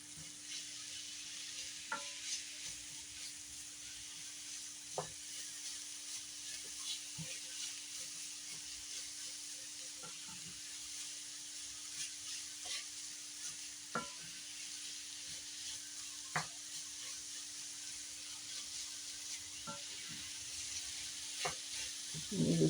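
Ground turkey and vegetables sizzle steadily in an Asian-style stir fry, a continuous close hiss of frying broken by occasional soft clinks and stirring taps from a utensil in the pan.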